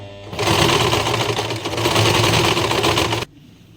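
A sewing machine stitches a top in one fast, continuous run lasting about three seconds before stopping abruptly, loud and close with no talking.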